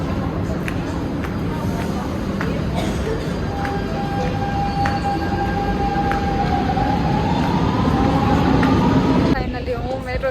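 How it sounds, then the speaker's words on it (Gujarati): A metro train rumbles through a station with a steady roar, a rising whine building as it moves, and people talking faintly in the background. "ફાઇનલી મેટ્રો આવી"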